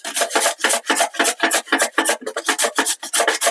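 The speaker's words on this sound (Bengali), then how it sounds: "আমি ঘষনিটা দিয়ে গাজরগুলো ঘষে নিব সুন্দর করে" Carrots for carrot halwa are rubbed against a hand grater in quick, even back-and-forth strokes, a close, crisp rasping scrape repeated roughly every third of a second, with nothing else heard.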